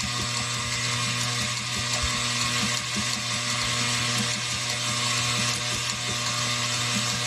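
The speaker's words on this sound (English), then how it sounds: "You just have to beat it long enough, and you want to use a whisk if you're gonna mix it." An electric mixer with a whisk attachment beats cream into homemade butter, giving a continuous loud mechanical whir and rattle with a steady motor hum and no talking.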